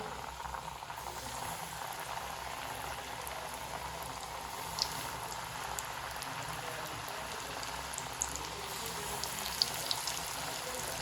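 Chicken strip pieces crackle in hot oil, a dense, even hiss with scattered tiny pops running steadily throughout, close and moderately quiet.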